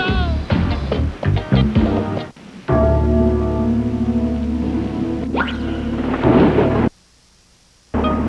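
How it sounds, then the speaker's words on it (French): A thunderstorm sound effect in a 1989 French-language TV advertisement rolls as a loud, low rumble layered with sustained tonal sounds, then cuts abruptly to near silence before a final return. "Les orages de Mathieu."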